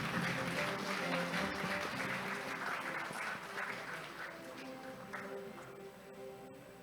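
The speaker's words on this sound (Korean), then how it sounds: "큰 박수 부탁드립니다." An audience at an academic conference opening ceremony claps steadily in a dense wash of applause that fades slowly across the clip.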